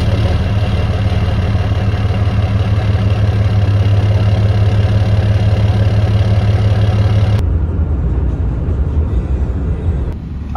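A four-wheeler engine with its exhaust baffles removed runs loud and steady at a rough idle, close by, then cuts off abruptly near the end with no one talking.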